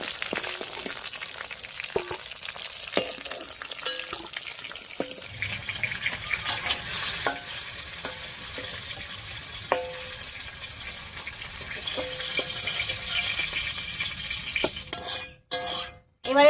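Oil left from frying fish sizzles in a pan as whole cumin and dried chillies are added for tempering, with a steady frying hiss, clinks of a utensil against the pan and a few stirring knocks.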